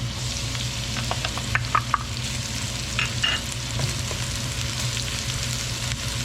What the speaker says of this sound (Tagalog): Lagyan lamang po natin ng konting mantika. At ilalagay na po natin itong ating bawang.